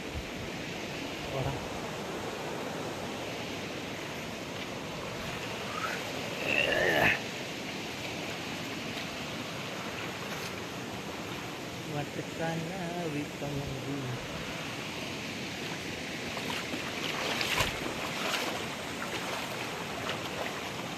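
Steady broadband rush of water from the Dhangar waterfall near Savroli village in Badlapur, continuous and even in loudness throughout, with faint voices and a few brief sounds on top.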